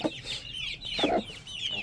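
Aseel rooster and young chicks clucking at close range, a steady run of short chirps with a louder burst of clucks in the middle, no voices.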